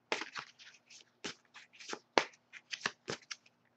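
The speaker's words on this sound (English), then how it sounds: "As I shuffle the deck" Oracle tarot cards being shuffled by hand, a run of quick crisp riffling bursts in an uneven rhythm, close and fairly quiet, with no talking.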